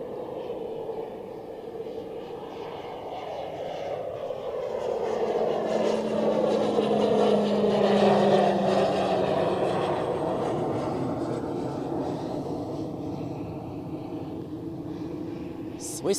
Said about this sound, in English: let's take a look at another PC-12.